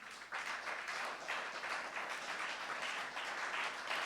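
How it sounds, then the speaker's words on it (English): Audience applauding the President of Ireland at a lecture event, a steady dense round of clapping from a crowd, heard at a moderate distance and alone. "Could we give him a round of applause one more time?"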